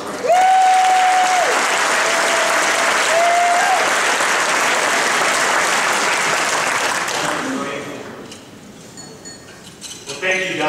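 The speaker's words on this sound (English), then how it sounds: "Let's give a round of applause to Lois Frankel." Audience at a Forum Club luncheon applauding Lois Frankel as she is introduced, steady loud clapping fading out toward the end, with faint clinks of dishes and cutlery nearby.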